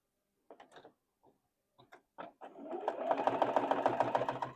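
A sewing machine starts after a few scattered clicks and handling knocks, then settles into a steady, fast, close mechanical stitching rhythm for the last half.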